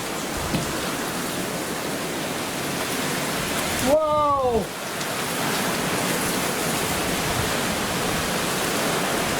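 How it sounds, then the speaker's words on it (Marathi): Heavy rain pours down in a dense, constant hiss, and a voice briefly calls out midway through. "पाऊस आहे सॉलिड पाऊस आहे"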